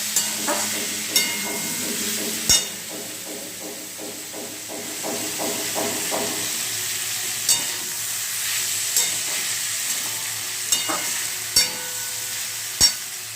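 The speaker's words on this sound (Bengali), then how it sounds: "দেখা যাচ্ছে আলু ফুলকপি ভাজা একদম" Potato and cauliflower frying with a constant hissing sizzle, broken by rhythmic stirring scrapes and occasional sharp knocks of a utensil against the pan.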